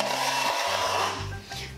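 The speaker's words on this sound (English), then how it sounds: "Just gonna scrape everything up." A steel tool scrapes a plaster wall skim coat, giving a close, loud, continuous grinding rasp with a shifting tone and no talking.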